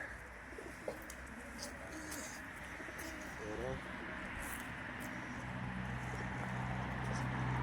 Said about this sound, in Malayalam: നിറച്ച് പ്രാവുകൾ, ഒരു പാർക്ക് നിറച്ച് പ്രാവുകൾ.